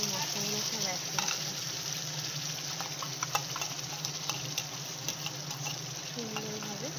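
Onions and spices sizzle steadily in a pan for a fish and potato curry, a continuous close frying hiss with occasional stirring clinks and scrapes, no speech.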